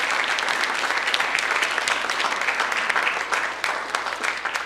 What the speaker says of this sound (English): let's have a thunderous applause for Sharon Haravu